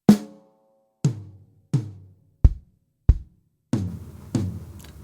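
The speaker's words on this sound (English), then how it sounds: "So far, everything sounds like this." Drum kit fill: a snare hit, then floor tom strokes, a quick double kick and tom hits, spaced separate strikes that ring out briefly, close and loud with no talking.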